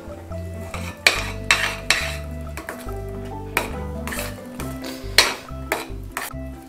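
A spoon stirs ghee through rava kesari in a pan, close and fairly loud, with repeated metallic clinks and scrapes against the metal in an uneven rhythm alongside a low hum; nobody speaks.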